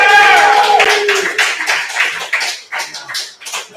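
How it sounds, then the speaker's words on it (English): Audience applause at an open mic night: a burst of dense clapping that slowly thins and fades, with a voice over it at the start. "Clap up to JT Moore."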